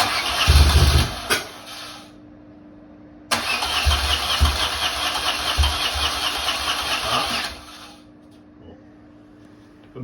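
A BMW R80 R motorcycle engine being started: a brief cranking burst, a pause, then the engine catches and runs steadily for several seconds before cutting off, loud and close, with no talking.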